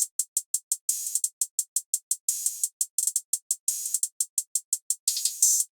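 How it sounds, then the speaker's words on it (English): Rapid closed hi-hat ticks are punctuated by longer, washier open hi-hat hits that ring out briefly, repeating in a looping beat. "Together, those two open hats sound like this."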